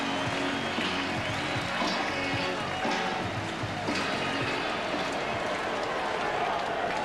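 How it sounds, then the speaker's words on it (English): Stadium crowd at a 1999 NLCS baseball game, Braves at Mets, applauding and cheering in a dense, steady roar throughout, with a broadcaster's voice talking over it. "Big round of applause for Olerud"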